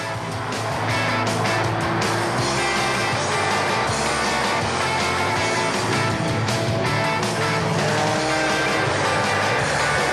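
Porsche 910 prototype race cars lapping a fast, technical circuit during the 2006 Tour Auto, with loud, sustained engine roar that shifts in pitch as the cars accelerate and pass, heard close and without talk.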